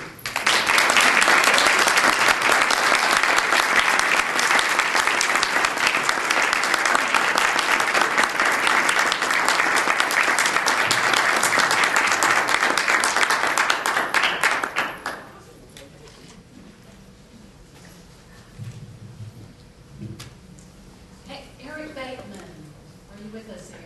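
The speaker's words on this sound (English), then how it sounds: "Please give me a round of applause for Ms. Julie." An audience at a TYCA conference event claps for about fifteen seconds, a loud, dense, sustained applause that stops abruptly and leaves quiet room sound with faint talk.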